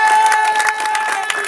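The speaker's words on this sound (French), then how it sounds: "Merci, applaudissez pour vous." Dense, steady applause from an audience at a political speech by a UDB candidate elected deputy, many hands clapping close and loud with a crowd murmur throughout.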